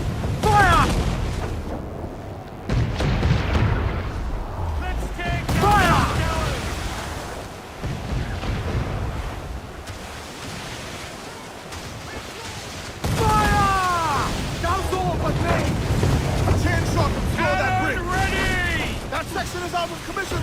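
Ship cannons boom in the Assassin's Creed Black Flag video game, with heavy repeated blasts and rumbling fire over a constant roar of battle, while crew members shout throughout.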